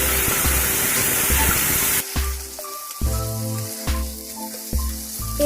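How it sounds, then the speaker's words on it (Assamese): Spice paste for a paneer-style egg curry hits well-heated oil with a loud, close, hissing sizzle for about two seconds, then the sizzle drops away, leaving quieter steady tones and occasional soft knocks. "তেলখিনি ভালকৈ গৰম হৈ গ'ল। এতিয়া ইয়াত মই বনাই থোৱা মছলা পেষ্টখিনি দি দিম।"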